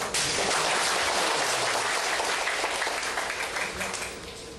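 Audience applause at a classical-studies class closing ceremony, a dense steady wash of many hands clapping throughout, tapering slightly at the end.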